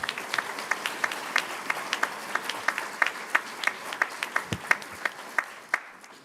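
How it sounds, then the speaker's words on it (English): Scattered, sparse handclaps ring out at a fall attorney induction ceremony, a few distinct claps per second with a slightly irregular rhythm, heard clearly and alone. "One more round of applause for Dean Navarro."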